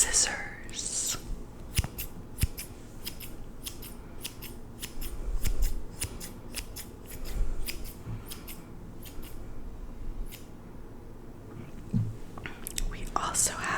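Scissors snip in a steady, rhythmic run of crisp, close-up cuts, a whispered voice running softly beneath them in a quiet ASMR setting.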